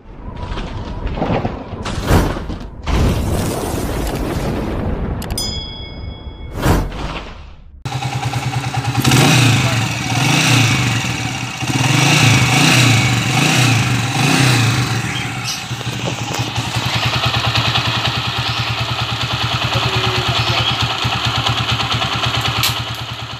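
A few sharp knocks and clanks, then a motorcycle engine fires up and revs repeatedly, rising and falling in loud surges before settling into a steady run.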